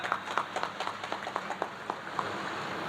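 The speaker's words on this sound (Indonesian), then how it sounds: "tepuk tangan" Scattered applause from a modest audience at a village head inauguration ceremony in Kertawinangun, Majalengka, West Java, with a dozen or so distinct claps standing out over a faint, hollow room background.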